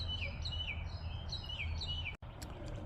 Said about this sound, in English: I love those beautiful birds in the background.